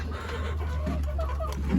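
Chickens on a small backyard poultry farm cluck softly nearby, a few short low calls over a steady background hum.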